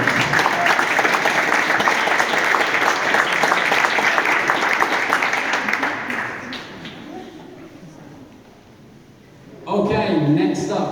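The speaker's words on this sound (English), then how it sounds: "One more round of applause for her." Graduation ceremony audience of a Manchester City football development programme applauding: dense, loud crowd clapping fills the first six seconds, fades to a thin patter, then swells sharply again near the end.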